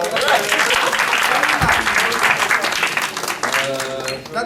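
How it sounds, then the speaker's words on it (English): Dense audience applause fills a presentation hall, loud and steady from start to finish, with a voice speaking over it. "Applause for that."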